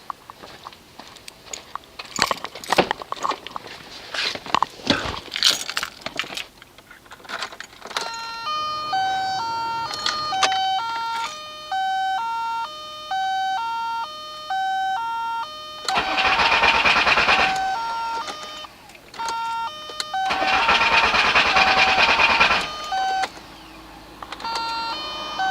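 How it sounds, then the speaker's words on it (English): A VW 1.9L TDI turbo diesel, just fitted with a new injection pump head seal, cranks in two long, loud bursts. A repeating two-tone electronic beeping runs throughout, with scattered knocks at the start. "let's crank it over."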